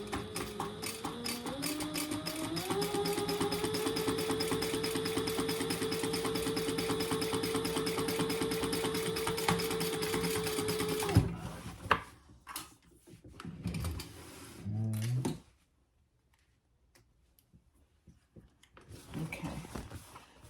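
A sewing machine stitching a tote bag runs in a steady, close mechanical whir for about eleven seconds, then stops, followed by a few short bursts, handling clatter and quiet stretches.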